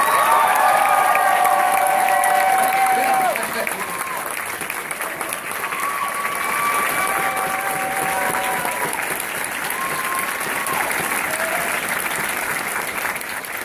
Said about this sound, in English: Everybody, please give a huge round of applause for Mike Lucas!